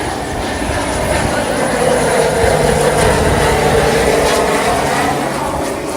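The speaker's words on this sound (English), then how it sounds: "No, it was another puddle jumper." A small propeller plane, a puddle jumper, passes over the beach at Maho in Sint Maarten as a loud, steady engine drone that swells and fades slightly, with faint background chatter.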